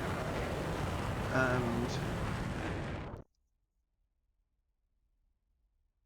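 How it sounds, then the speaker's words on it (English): HIMARS rocket booster motors firing in the flight simulator DCS World, a loud continuous roaring rush with a brief spoken word over it, cutting off abruptly into silence partway through. "Same as last time, rocket booster motors firing."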